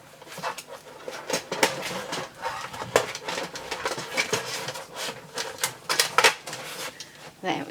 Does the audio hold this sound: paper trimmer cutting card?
yes